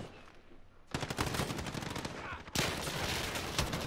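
Rapid bursts of PP-19 submachine gun fire in a video game, starting after a quiet second and continuing as dense, loud automatic volleys to the end.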